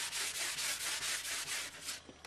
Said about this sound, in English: Get that last bit of sanding in.